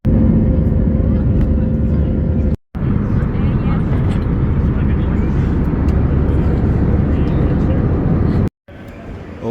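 Passenger airplane cabin during landing, a loud steady roaring rumble throughout with two brief dropouts, and speech over it.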